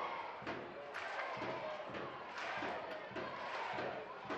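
Soccer supporters chant rhythmically in a stadium during a Seattle Sounders FC versus Reno 1868 FC match, a steady crowd roar with regular pulses, heard at a distance under the general noise of the stands.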